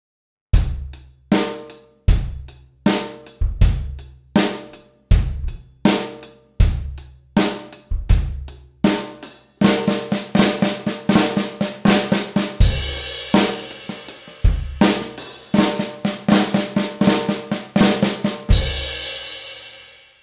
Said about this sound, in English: I'll play the Flam Accent for you